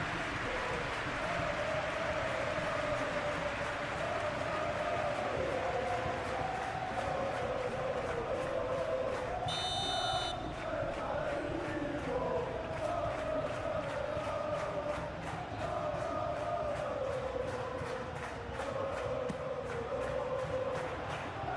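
Simulated stadium crowd in a PES 21 football match between Celta Vigo and Real Madrid, a steady dense roar swelling after a near miss on goal, loud and continuous throughout with a brief whistle-like tone midway.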